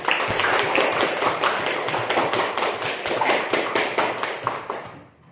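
A primary school class, grade six pupils in an Islamic school, claps for a classmate in a quick, steady rhythm of close, even beats that fades out at the end.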